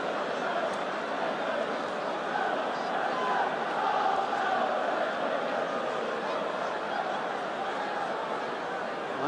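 A football crowd at a 1986/87 Tottenham Hotspur versus Aston Villa league match, humming and cheering in a steady, distant roar after a Tottenham goal, with a few shouts within it.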